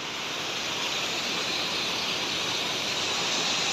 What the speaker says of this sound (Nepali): यसरी मिदिम खोला सुस्ताइरहेको छ